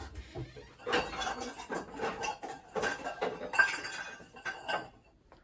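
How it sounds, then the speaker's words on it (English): Dishes and cups clattering while tea is being made, a run of close, irregular clinks and knocks of crockery and cutlery, with no voices. "Let me make you some tea."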